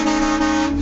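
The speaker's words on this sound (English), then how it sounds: "When I got mine, it came with a train horn." A train horn fitted to a car sounds one steady, loud, sustained blast with no voices.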